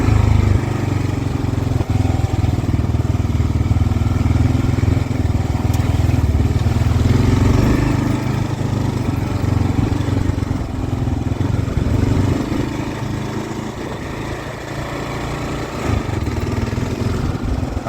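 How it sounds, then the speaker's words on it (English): A Kawasaki KLR 650 motorcycle putters steadily along an off-road trail, its engine running at a low, even throttle with a continuous close rumble throughout. "I'm just kind of putting along through here."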